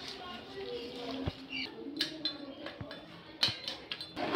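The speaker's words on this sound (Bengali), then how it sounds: "একটু নেড়ে দেবো।" Koi fish and potato curry stirred in a pan, with sparse clinks and light scrapes of a utensil against metal over a soft background hiss.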